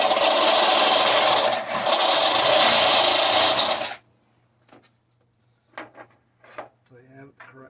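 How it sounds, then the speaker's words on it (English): A step drill bores out a hole, whining loudly and steadily for about four seconds with a brief dip, then stops, leaving quiet with a few short scrapes and taps. "this is a step drill, allows you to keep going, open the hole"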